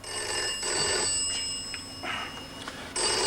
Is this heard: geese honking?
no